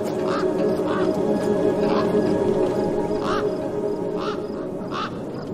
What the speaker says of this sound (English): Then, I heard them. Gang-gang birds.